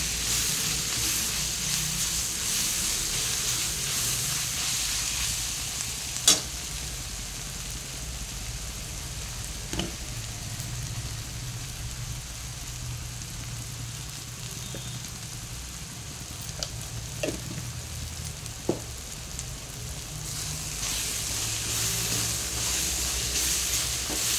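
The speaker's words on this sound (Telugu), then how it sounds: "అల్లం వెల్లిగడ్డ పేస్ట్ వేసేసుకుందాం. పసుపు కూడా వేసేసుకుందాం" Ginger-garlic paste and turmeric sizzle and fry in a hot pan for a fish curry, a steady crackling hiss throughout with a few sharp clinks of a utensil against the pan.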